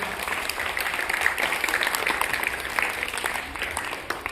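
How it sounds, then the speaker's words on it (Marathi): An audience at a voter-awareness quiz event claps together in a dense, steady burst of applause that holds at even loudness for over four seconds before easing slightly at the end. "सर्वांनी पुन्हा एकदा एक दिवस टाळ्या वाजवायचे."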